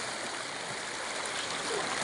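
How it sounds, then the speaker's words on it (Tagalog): Rushing water of a waterfall in the mountains of San Pablo, Laguna, a steady broadband hiss heard at a distance, fairly faint and unbroken throughout with no voices. "Ganda ng talon, oh."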